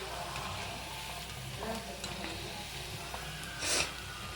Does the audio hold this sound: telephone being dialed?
no